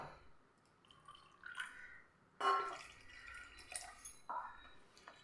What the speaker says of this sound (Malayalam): ഇതാ ഞാൻ ഒന്നര കപ്പ് വെള്ളം ഒഴിച്ചു കൊടുത്തിട്ടുണ്ട്